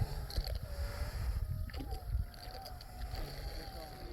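A radio-controlled boat's motor whines steadily over broadband water and wind noise, with the pitch wavering slightly as it runs.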